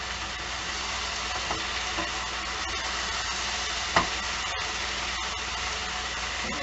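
Marinated beef stir fry sizzles steadily in a pan, a constant close hiss running under occasional light clicks and one brief utensil tap, with no talking.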